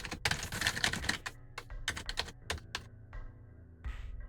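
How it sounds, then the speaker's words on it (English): Rapid, uneven clatter of computer keys being mashed one after another, dense bursts of clicks and thumps at first, then sparser separate key presses with short gaps, close and fairly loud. "That's every key on the keyboard, except for print screen"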